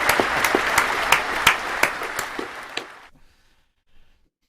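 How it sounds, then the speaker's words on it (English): A few people clap together during a small live-stream gathering, a thin but lively patter with distinct individual claps that stops abruptly, leaving near silence. "There's not enough clapping, just the three of us here."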